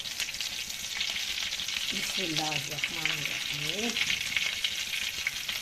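Dal and potato kababs sizzle steadily in an oil-filled pan, a constant crackling hiss throughout while a voice speaks briefly over it.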